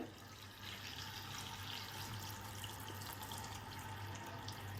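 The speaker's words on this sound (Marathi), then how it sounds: "आता बघा यामध्ये ना द्राक्ष पुडतील एवढं पाणी टाकू आपण" Water running steadily from a tap into a bowl of grapes, a continuous close splashing flow that stays even for the whole stretch.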